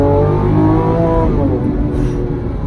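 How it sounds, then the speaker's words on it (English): Lamborghini Aventador SVJ engine revving loudly and steadily up close, a dense sustained roar with rising and falling pitch throughout, no voices. "that's the Lamborghini Aventador SVJ"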